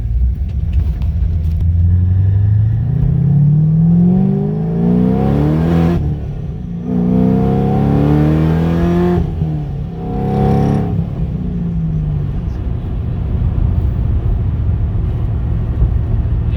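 The supercharged LS3 V8 in a Corvette Z06 revs hard toward 7,000 rpm in repeated loud sweeps, each rising pull snapping off abruptly before the next, with a deep rumbling exhaust and close, aggressive engine roar, no talk.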